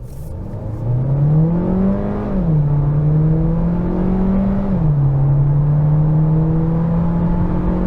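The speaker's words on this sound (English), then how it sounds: "So, dynamic mode from 20 kilometers an hour. Let's just accelerate it out." A 2021 Audi A3 sedan with the 1.5 TFSI mild-hybrid engine accelerating hard in dynamic mode from 20 km/h, its loud, steady engine drone climbing in pitch and dropping at two gear changes, with no talking.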